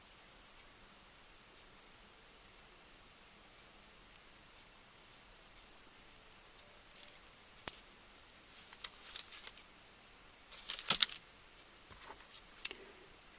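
Earring wire cut to about a finger's length. Sharp, faint snips come in a quiet room, with a single click near the middle and a tight cluster of clicks later on. Nobody speaks.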